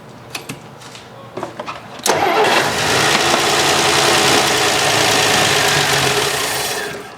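A classic car engine, recently revived after sitting in long storage, catches and settles into a loud, steady idle close by, after a few sharp clicks and throttle blips at the start.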